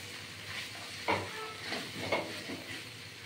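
Vegetable pasta with soy sauce fries in a pan, a steady close sizzle broken by a few louder scraping stir strokes roughly every second.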